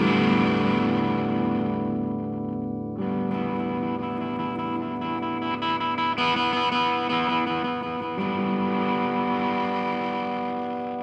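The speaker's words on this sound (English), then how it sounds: "Here's a filter sweep real quick." An electric guitar runs through an Earthquaker Devices Sunn O))) Life Pedal as a filter sweeps, with sustained distorted chords whose tone shifts in distinct steps every few seconds, loud and up close.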